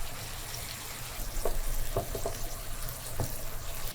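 Meat sautéing in a pan with cumin powder and oregano, a steady low sizzle broken by a few brief clinks and scrapes of stirring, moderately close with no talk.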